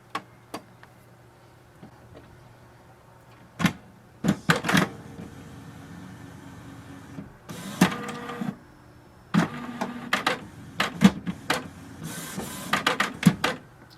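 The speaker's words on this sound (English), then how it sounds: "Now switch on your printer." A Canon Pixma MG3600 printer powers up with a series of mechanical whirs, clicks and clunks in separate bursts, its internal mechanism ticking and rattling close by in an otherwise quiet room.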